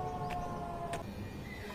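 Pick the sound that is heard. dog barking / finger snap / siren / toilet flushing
siren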